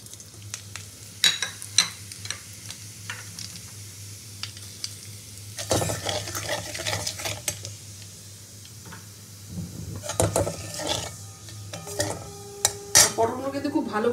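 Cumin seeds frying in oil in a pan for Bengali potol kosha (pointed gourd), a steady close crackling sizzle with occasional clinks of a utensil against the pan and no voices.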